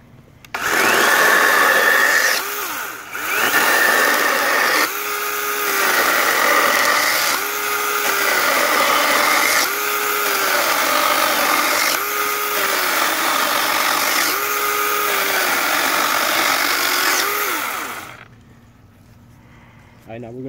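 A Dewalt DCCS620 20V cordless chainsaw cuts through pressure treated 2x4 lumber, a loud steady motor whine repeatedly dipping into a series of bogged-down cutting passes, close and continuous until it stops near the end.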